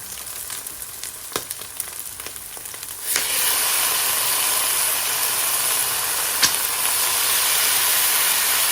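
Bacon dropped into a hot frying pan: after a few light clicks and taps, a loud, bright hissing sizzle bursts in and holds steady, close and continuous, with no voices.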